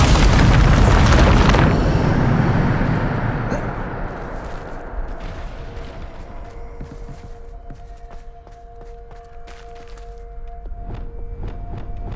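A Bombarda spell in Hogwarts Legacy detonates as a loud, booming video game explosion that rumbles and then fades into a quieter, crackling tail with a lingering hum.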